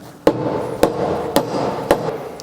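A hammer strikes a part of a BMW E46 M3, four evenly spaced sharp metallic blows about half a second apart, close and loud over a steady background hum.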